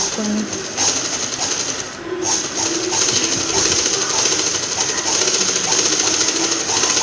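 A sewing machine stitches canvas with a loud, dense mechanical rattle that runs almost without pause, briefly dipping once, close up with a bright high whine over the rapid clatter.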